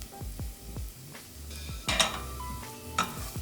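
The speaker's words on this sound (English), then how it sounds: "butter is pretty hot, so we're gonna add our onions" Chopped onions sizzle in hot butter and oil in a pan for crab risotto, with a spoon or spatula scraping and stirring in short strokes and a few sharp clinks against the pan.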